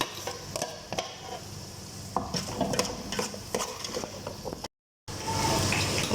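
Peppers and carrots frying in a pan while being stirred, with scraping utensil strokes and clinks against the pan over a steady background sizzle, then a brief cut to silence before the frying resumes.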